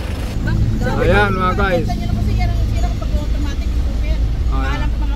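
An Isuzu Trooper's 4JX1 diesel engine runs steadily at idle after being started, a continuous low rumble with someone talking briefly over it.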